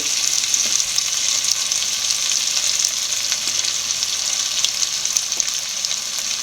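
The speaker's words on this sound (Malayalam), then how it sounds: "ഒരു ഒന്നര സ്പൂൺ മുളക് പൊടി ചേർത്തിട്ടുണ്ട് നല്ലപോലെ പച്ചമണം മാറുന്നിടം വരെ വഴറ്റി കൊടുക്കുക" Chili powder sautés in a pan for sardine curry, giving a steady, close, loud sizzle and frying hiss throughout with occasional stirring scrapes.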